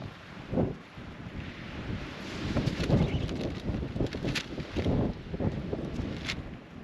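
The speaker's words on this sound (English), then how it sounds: "It is so windy up here." Strong wind roars across an exposed summit on a desert mountain hike, gusting and buffeting the microphone continuously with loud surges throughout.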